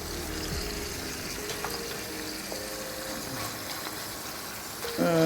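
A steak cooks in a frying pan with a steady, fairly loud sizzle that runs the whole time, with faint kitchen clatter near the end.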